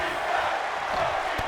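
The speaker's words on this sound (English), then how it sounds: "The crowd is cheering on the violence that both these men are doing to one another" A crowd at an SCW wrestling show in the Bronx roars steadily in a continuous wash of cheering, with one sharp impact thud near the end.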